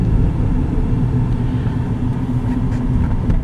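A 2008 Mercury Mariner Hybrid 4x4 SUV rolls along bumpy back streets, its steady low rumble of road and engine noise filling the cabin at a constant, fairly loud level.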